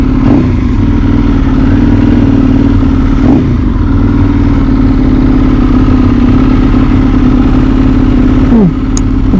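An EBR 1190RX sport motorcycle at a bike night runs steadily throughout with a loud, continuous engine drone and a brief pitch dip near the end; no one talks.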